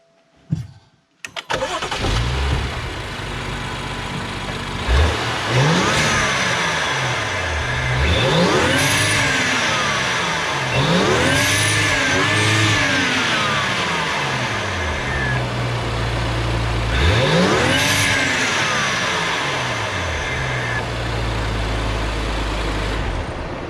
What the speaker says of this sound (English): you can definitely hear the turbo spool